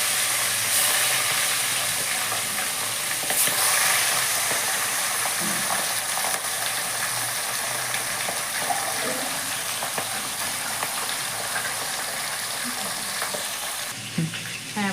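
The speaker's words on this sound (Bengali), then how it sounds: "এইভাবে আরও বাকি মাছ যেগুলো আছে সেগুলোকে আমি সুন্দরভাবে ভেজে নিচ্ছি।" Fish pieces fry in a pan with a loud, continuous sizzle and spattering crackle, with occasional stirring and steam hiss, close and steady throughout.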